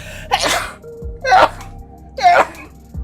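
Three close sneezes in quick succession, each a sharp loud burst about a second apart, with low background music or hum underneath.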